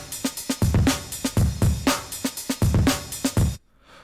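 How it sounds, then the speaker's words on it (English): A slow-tempo drum break sample plays punchy kicks, snares and hi-hats in a steady, looping groove. It is loud and upfront, then stops abruptly into near silence. "I at some point made a drum break and it sounds like this"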